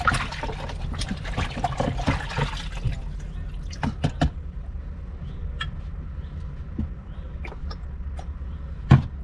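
Water trickles and splashes into a plastic washbasin while dishes are washed by hand. The washing is steady and close, with a few sharp clinks and drips along the way.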